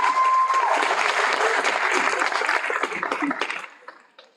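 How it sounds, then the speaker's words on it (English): An audience at a graduation ceremony applauds, steady dense clapping that holds for several seconds before tapering off into scattered claps and quiet. "round of applause for Mantiso"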